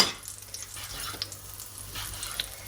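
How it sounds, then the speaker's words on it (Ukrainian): Soft, steady sizzling of onions frying in a pan, with a few light clinks and stirring sounds, no talking. "Спочатку я буду цибулю смажити, після чого тільки м'ясо."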